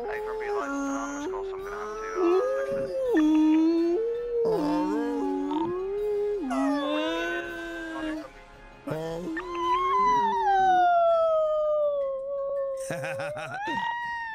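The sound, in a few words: voice imitating whale sounds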